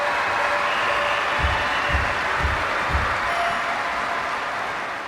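A crowd applauds after a dive in the London 2012 Olympic video game: a steady wash of clapping with a few dull low thumps, fading slightly at the end.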